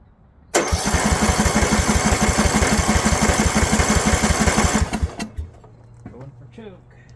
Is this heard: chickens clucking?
no